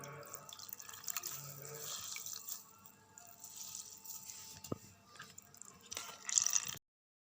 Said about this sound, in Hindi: इन्हें मैं एक एक करके पानी में डिप करके अच्छे से निचोड़ के तो साइड पे रखती जाती हूँ